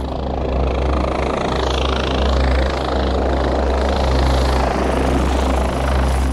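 A mountain rescue helicopter of the French gendarmerie in the Alps thunders loudly and steadily close by, its rotor thumping in a continuous low pulse with engine whine above.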